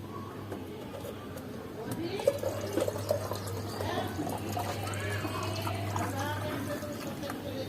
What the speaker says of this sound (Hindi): ये मैंने इसमें किचन वेस्ट लिक्विड फर्टिलाइजर डाल दिया।